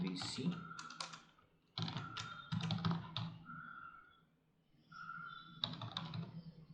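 Rapid keystrokes on a computer keyboard while a database command is entered, arriving in bursts of clicks with short pauses, clear and close, under a voice talking.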